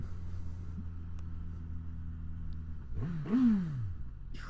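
A Suzuki GSX-S1000GX motorcycle idles with a steady low hum, then its engine revs up sharply in one quick rising blip and falls back, close and clear.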